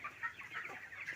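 Chickens on a poultry farm clucking softly in a few short, scattered calls, faint and close, with no other sounds over them.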